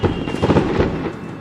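Fireworks go off in the distance, a quick cluster of muffled booms and crackles lasting about a second, fading off with no talking.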